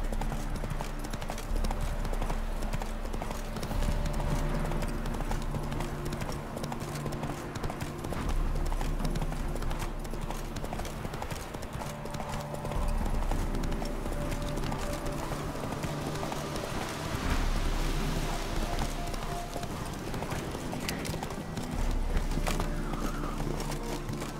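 Roach, a horse in The Witcher 3, gallops with a steady, loud clip-clop of hooves, with brief whinnies and a low music bed running throughout.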